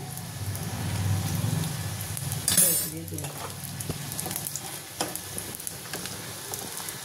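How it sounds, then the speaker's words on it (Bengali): Chicken roll pieces for a Bengali-style chicken Chinese roll fry in a pan, giving a continuous crackling sizzle with a brief louder clatter partway through and no speech. "প্রথমে একটু আস্তে করে নিয়েছি, তারপরে আমি লাল করে ভাজবো।"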